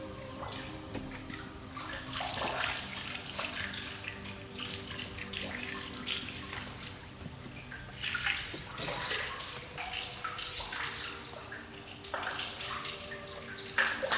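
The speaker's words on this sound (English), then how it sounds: "I hear water." Water runs steadily from a tap or spout, a continuous splashing stream with a few louder surges, close and alone.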